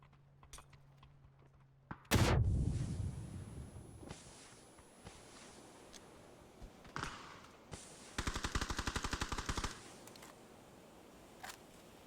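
Gunfire rings out in a PUBG match: a single loud shot, several scattered cracks, then a rapid automatic burst, with quiet stretches between them.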